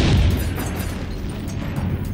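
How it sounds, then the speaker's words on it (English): American tank cannon fire in a World War II battle, likely a Sherman M4A3 with its 75mm gun: a loud, dense boom that fills the clip and rumbles on without pause, no voices. "American tanks were shooting on us."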